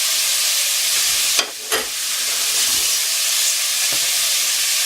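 Steady sizzling and hissing of mince frying beside bacon in a pan, with a couple of brief scraping stirs partway through and no voices.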